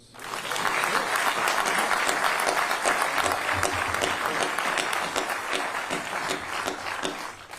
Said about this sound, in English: I just like to have a round of applause right there.